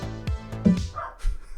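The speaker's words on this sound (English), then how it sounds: "My dogs are going crazy. Somebody just showed up." Several dogs bark and yip in a few sharp bursts, loud and close, with no talking alongside them.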